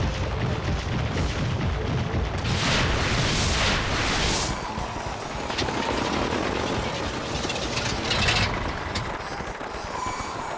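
A cartoon tractor bug's engine sputters and roars loudly in an animated dinosaur show, thick rumbling noise with bursts of hissing and booming running steadily throughout, no talking.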